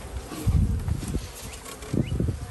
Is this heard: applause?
no